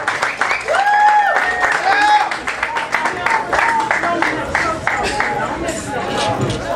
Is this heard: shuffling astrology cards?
no